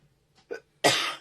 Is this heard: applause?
no